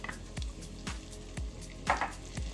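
Butter melting in a pan with bacon drippings for a bacon clam chowder, giving a quiet, steady sizzle broken by regular soft knocks and scrapes of a utensil.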